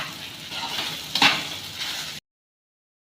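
Sabudana khichdi being stirred and mixed in a pan: a steady soft scraping hiss with one sharper clink of the utensil midway, then it cuts off abruptly into silence.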